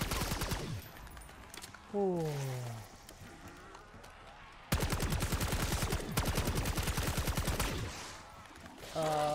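Gunfire from the Black Ops 6 zombies video game. Rapid automatic bursts come in dense runs with a pause between them, a falling tonal effect sounds in the gap, and a voice speaks briefly.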